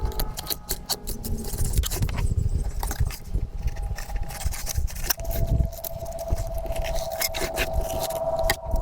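Sheepshead fish being cleaned by hand, with steady scraping and knife-on-scale rasping close up, irregular rhythmic strokes and occasional clinks running throughout, no talking.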